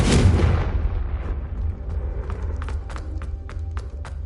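Confringo fire spell blast in Hogwarts Legacy: a loud, booming explosion at once that rumbles and fades, followed by scattered crackling pops of debris, with no voices.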